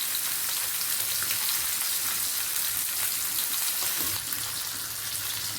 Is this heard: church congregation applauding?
no